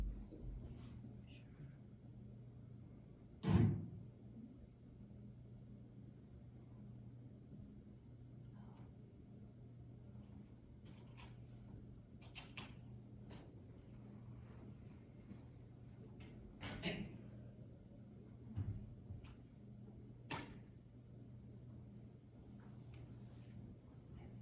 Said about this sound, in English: there's a lot of traffic noise